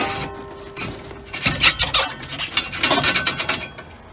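A spare tire bracket on a Grand Design Imagine 2800BH travel trailer slides out with metallic scraping and rasping, starting quiet and then a series of close, uneven grinding strokes for a few seconds.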